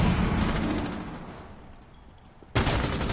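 Gunfire in a Rainbow Six Siege-style esports match between Vendetta and Arson Esports: a dense burst of shots up front, a quieter lull, then another sharp burst near the end.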